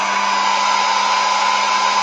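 A hair dryer runs steadily throughout, used to dry stencil and gel plate art, producing a loud, close, continuous airy roar with a constant motor hum and no talking.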